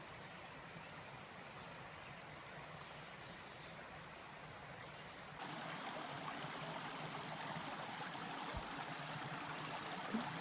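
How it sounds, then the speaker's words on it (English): A small stream flows along the Appalachian Trail, a steady soft wash of running water that grows slightly fuller partway through, with no talking. "This is a nice little stream, good water source if I needed it"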